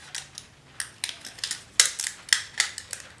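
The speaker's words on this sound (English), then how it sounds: "now I'm going to cut some slits in between" Slits being cut into a craft piece with scissors, a series of crisp, close snips in an uneven rhythm, about a dozen clicks with no speech.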